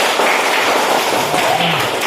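Applause from a classroom of students, a dense, steady wash of hand claps that stays fairly loud throughout, with the odd voice or note poking through.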